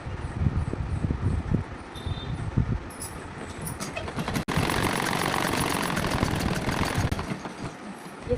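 A sewing machine stitches a gathered sleeve, its rapid mechanical whir running continuously at moderate loudness, briefly pausing near the middle before resuming steadily.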